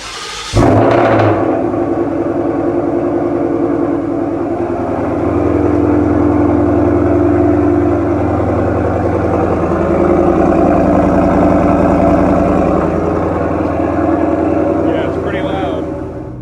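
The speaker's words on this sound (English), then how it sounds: "let's go ahead and do a cold start" A 2020 Mustang GT fitted with lowering springs cold starts with a sharp crank and bark, then settles into a loud, steady, rumbling high idle that holds close and unbroken.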